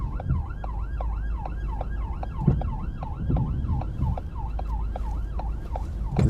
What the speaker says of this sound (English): So there's a police car coming around from the side,